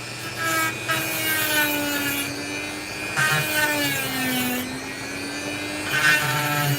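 A Dremel rotary tool grinds rough opal with a steady high whine that dips and rises as the bit presses into the stone, with scratchy rubbing bursts of contact, close and moderately loud.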